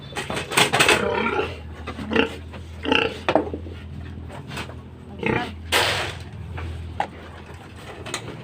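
Pigs on a small farm grunt and squeal during feeding time, with bursts of loud oinking, clanking feed pans and metallic knocks from the pen, close by and irregular.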